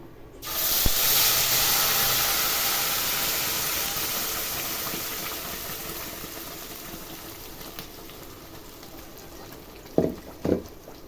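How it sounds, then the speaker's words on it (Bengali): A homemade spice paste is poured into a hot pan for a shahi paneer-style dish and bursts into a loud, sustained sizzling hiss that slowly fades, with a couple of short utensil knocks near the end. "এবার আমি যে পেস্টটা বানিয়ে রেখেছিলাম এটা এর ভিতরে ঢেলে দেবো"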